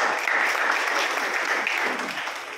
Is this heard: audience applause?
yes